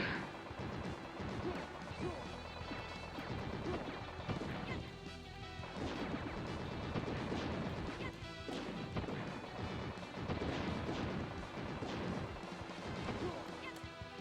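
A Vulcan cannon fires continuously in the arcade shooter Wild Guns Reloaded, a loud, dense wall of crashing blasts and impacts that runs steadily throughout, with game music layered in.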